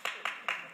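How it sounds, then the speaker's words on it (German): Audience applause at a corporate talk-show panel event, heard as a brief burst of claps with three sharp onsets and a steady patter between them. "Vielen Dank für den Beifall"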